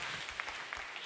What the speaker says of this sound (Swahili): Tupigie Bwana makofi tunapoketi.